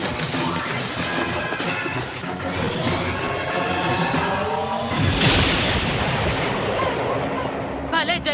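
A cartoon explosion effect booms and crashes in a dense, loud burst of noise with rumbling debris, continuing steadily for several seconds as the blast echoes and settles.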